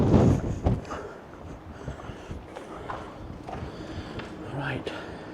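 Strong gusts buffet the microphone on an exposed coastal headland walk at Brean Down, Somerset, a loud low roar at the start easing into steady rushing wind with someone talking over it.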